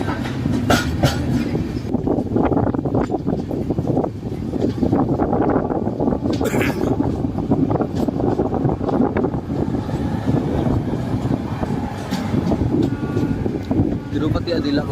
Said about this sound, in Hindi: यशवंतपुर से जबलपुर तक जाने वाली जबलपुर सुपरफास्ट वीकली